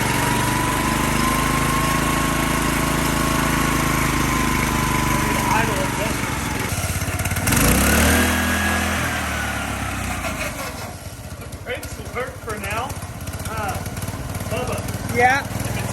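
A Grasshopper go-kart's small engine runs fairly quietly after a chain fix, a steady idle hum that dips and changes pitch midway, with voices talking over it.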